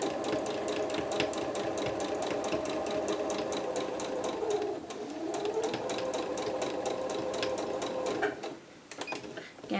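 A sewing machine top stitching an A-line reversible dress runs at a steady, fast chattering rhythm close up for most of the clip, briefly slowing and pausing near the end as the presser foot is lifted to curve around a corner.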